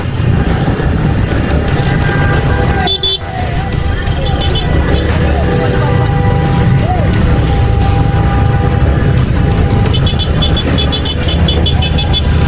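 A truck rumbles loudly past on a road during a bicycle race, with a car horn tooting briefly over the continuous engine and traffic roar.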